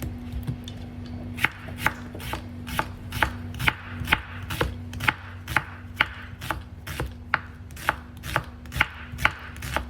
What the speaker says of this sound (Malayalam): ഉള്ളി നല്ല തിൻ സ്ലൈസസ് ആക്കി വേണം അരിഞ്ഞെടുക്കാൻ